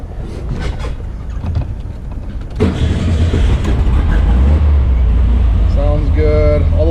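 A restored 1969 Berry Mini T dune buggy's engine runs up close, swelling louder a few seconds in and settling into a steady, heavy rumble as it is taken for a spin.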